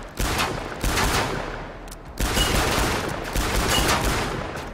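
Gunfire from the Killing Floor 2 video game, with loud rapid bursts of shots in several volleys separated by short pauses and no talk.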